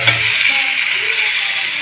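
Fried potato and papaya pieces go into a spice masala for a light koi fish curry, giving a bright, steady sizzle close by with a brief clatter at the start and no talking.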